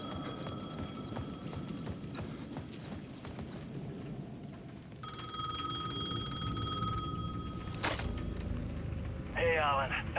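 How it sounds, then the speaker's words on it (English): An old-fashioned payphone bell rings at the edge of a plaza in the video game Alan Wake 2, its steady ringing tones sitting beneath ambient game noise and a low rumbling background throughout. "The payphone at the edge of the plaza was ringing again."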